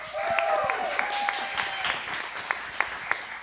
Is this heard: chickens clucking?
no